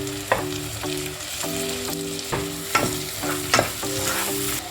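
Tomatoes go into onions frying in a pan for fish curry. A constant close sizzle carries several sharp spatula scrapes and taps in an uneven rhythm, with no talking.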